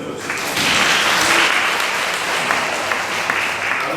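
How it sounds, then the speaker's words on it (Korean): A classroom audience at a writing lecture breaks into steady, dense applause that swells after a moment and holds at a fairly loud level. "박수 한번 쳐주세요."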